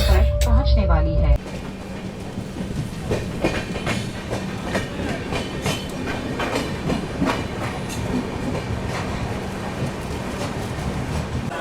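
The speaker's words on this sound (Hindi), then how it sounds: "यात्रीगण कृपया ध्यान दें, यह ट्रेन आबू रोड स्टेशन पर पहुंचने वाली है।" Swarna Jayanti Rajdhani Express train arriving at Abu Road station, heard from inside a 3rd AC coach: loud continuous rumble with repeated clickety-clack of wheels over rail joints, following a brief louder burst at the start.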